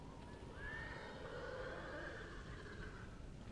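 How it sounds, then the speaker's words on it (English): A horse whinnies in the Ghost of Tsushima video game, a drawn-out neigh rising and falling over steady background ambience, fairly close and with no talk over it. "Oh, it's my horse."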